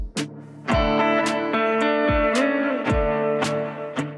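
An electric guitar lick with effects and mild distortion, picked around a held chord at close range. Separate plucked notes ring over the sustained chord, with no voice.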